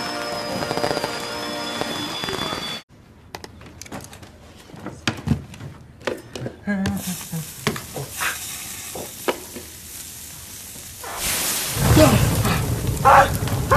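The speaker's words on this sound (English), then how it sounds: "Do not light firework indoor. Oh, but it's a baby firework." A small firework crackles and pops nearby in an enclosed room indoors, with scattered sharp snaps, then a louder hissing, sizzling burst near the end.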